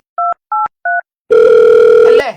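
A telephone keypad sounds three short dialing beeps in even succession, followed by a loud, steady dial tone lasting about a second.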